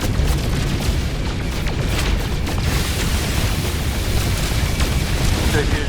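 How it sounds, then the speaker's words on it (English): A steady roar of blasting fire from a mining tool breaking rocks for gold in the video game No Man's Sky, continuous rumbling bursts at close range with no voices. "we're just shooting these rocks in the"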